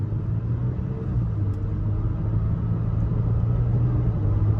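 A Toyota Tacoma engine pulls away from a traffic light with ECT power mode off, shifting gears automatically. A steady, close, low rumble holds throughout with no talk.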